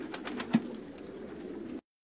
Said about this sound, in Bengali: সবগুলোই কবুতর দেখুন এখানে দেখা যাচ্ছে সবগুলোই তা দিয়ে বসে আছে